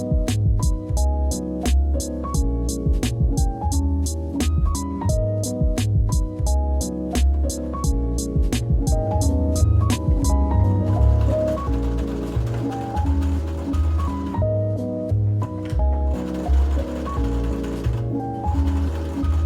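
A sewing machine stitches curtain fabric and dress lining in a rapid, even run of clicking stitches during the first half, then continues with busier mechanical whirring under music.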